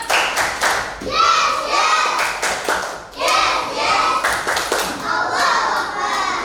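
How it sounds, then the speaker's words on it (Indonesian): Children in a classroom perform a rhythmic clapping chant, bursts of clapping in a patterned beat with short pauses, their voices chanting along between claps. "Sebelumnya tepuk semangat dulu deh."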